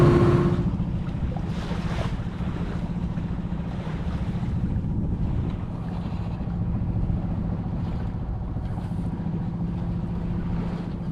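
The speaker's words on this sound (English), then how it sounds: "A little bit of breeze has come in" A light breeze blows over a sailboat at sea in the Spanish Mediterranean, a steady, close wind rush mixed with the low wash of water against the hull, with no talking.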